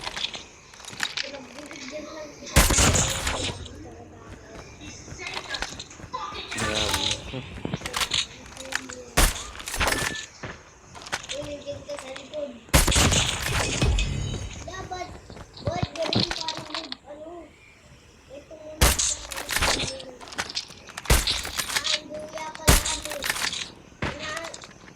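Sniper rifle shots ring out in a Call of Duty Mobile match, several sharp loud bursts spaced across the stretch, with people talking excitedly between and over the shots.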